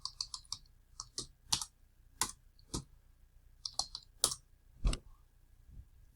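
A computer keyboard being typed on in a quick, uneven run of crisp key clicks with short pauses between bursts, close and clear, with no talking.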